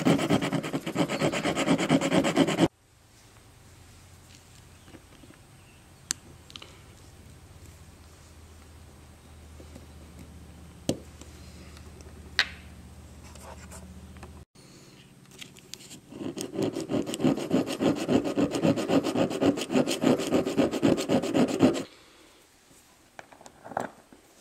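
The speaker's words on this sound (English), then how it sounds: "he will file an opening and go back and forth a number of times to get the fit just right" Hand file rasping back and forth on a metal seax pommel ring, cutting an opening for fit: dense rhythmic filing strokes at the start and again later, with a quieter stretch of light scraping and a few sharp clicks between.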